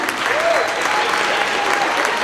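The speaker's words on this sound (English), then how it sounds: "Let's give them a big round of applause." Steady applause from a crowd at a company celebration, dense and continuous throughout, with a faint voice briefly audible beneath the clapping.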